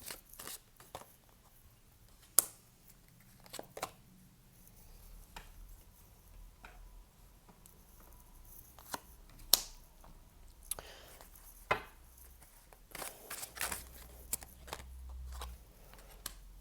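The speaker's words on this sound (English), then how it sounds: "Let me get some more cards." Tarot cards being drawn and handled in a quiet room make sparse, close, light taps, flicks and soft shuffling clicks at an irregular pace, with faint rustling between them and no voices.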